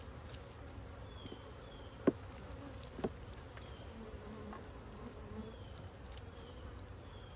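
Honey bees buzz in a low, steady drone around an open hive during an inspection with honey supers pulled, a faint continuous hum broken by a couple of sharp knocks.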